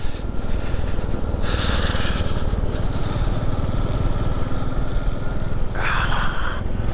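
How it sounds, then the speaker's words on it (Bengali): A motorbike riding through heavy snowfall: a constant rough engine drone close by with a few louder hissing surges, no talking. "তার মধ্যে দিয়েই বাইক চলছে।"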